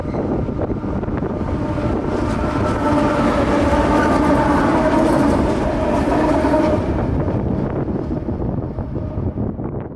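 Two locomotives, including engine 0738, roll past on a Florida rail line with a loud, sustained rumble and rising wheel noise, buffeted by wind across the microphone before the sound thins toward the end.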